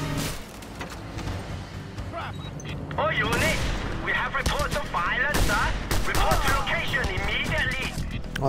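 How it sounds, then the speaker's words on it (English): In a video game, bursts of gunfire crack around the player, with sharp shots and rapid volleys mixed with engine noise and people talking over the top. "I'm getting shot in the back"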